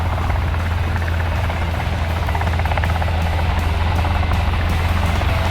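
A helicopter flying in the video game Sons of the Forest, a loud, continuous rotor thump and engine drone, steady and close throughout with no talking.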